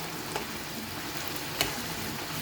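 Tomato puree being stirred into a hot pan of chicken and vegetables for pasta, a steady loud sizzle and fry with a couple of short clinks of the spoon against the pan.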